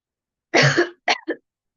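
Three coughs, one longer harsh burst followed by two short ones, close and clear against silence.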